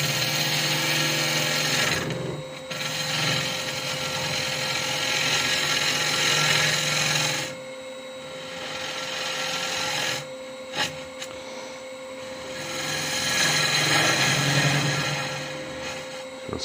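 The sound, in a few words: drilling into wood to hollow it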